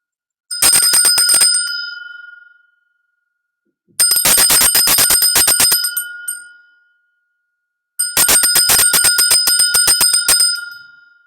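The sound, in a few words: bell being rung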